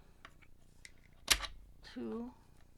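Scissors snip through ribbon in one sharp, close cut, followed by soft handling noises and a brief voice.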